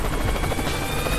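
Helicopter rotor from the video game Worms W.M.D.: a loud, steady, close chopping buzz that runs without a break and with no voices over it.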